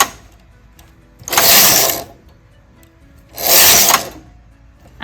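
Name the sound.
domestic knitting machine carriage moving across needles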